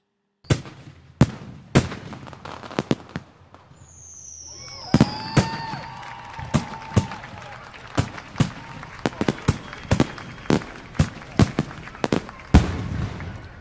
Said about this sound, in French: j'ai pu voir au loin un grand feu d'artifice